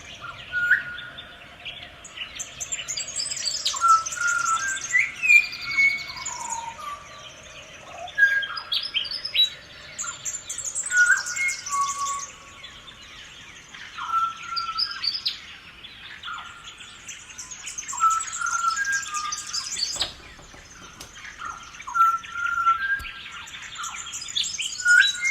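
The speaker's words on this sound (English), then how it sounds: "Beautiful sound. I love this bird." A bird sings in a field recording sent in by a citizen scientist, bright chirps and whistled phrases repeating in bursts over a faint hum of insects, with no talking.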